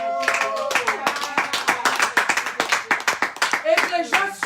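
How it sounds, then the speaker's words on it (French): A congregation clapping together in a French-speaking church service, a fast rhythmic run of hand claps for a few seconds, with voices singing or calling out over the clapping. "Acclamons pour la parole de Dieu."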